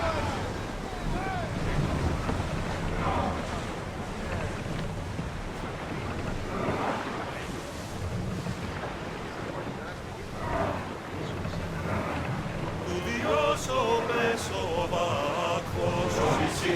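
A sailing ship at sea in Assassin's Creed Odyssey, with continuous wind, rushing waves and creaking hull filling the scene while crew voices call out over the noise.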